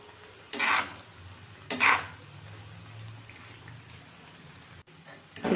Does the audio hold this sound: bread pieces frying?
yes